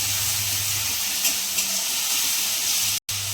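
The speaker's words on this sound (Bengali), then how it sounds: "এই তো মাংস কষা" Meat frying in spice paste for kosha mangsho, a loud steady sizzle with faint stirring scrapes, close up and without talk.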